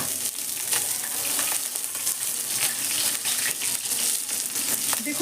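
Pabda fish frying in oil in a pan, a steady close crackling sizzle with denser bursts as the fish is turned.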